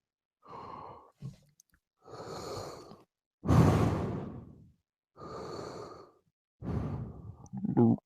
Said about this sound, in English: Heavy breathing into the mic.